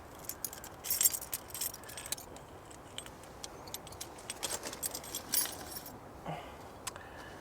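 A bunch of keys carrying a Gerber Dime multitool jangles close by in scattered metallic clinks and rattles over faint outdoor background noise.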